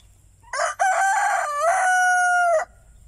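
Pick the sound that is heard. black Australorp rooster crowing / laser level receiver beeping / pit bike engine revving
black Australorp rooster crowing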